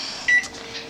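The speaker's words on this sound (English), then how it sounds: "I'm gonna set the timer" An oven timer gives a single short, clear electronic beep as it is set for broiling a sub sandwich, close and bright against quiet kitchen background noise.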